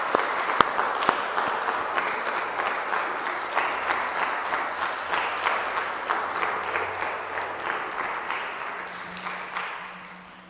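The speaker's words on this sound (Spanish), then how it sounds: "Le damos un aplauso a la quinceañera." A congregation applauds the quinceañera at the close of a Mass in a León parish church, with sustained even clapping that slowly fades toward the end.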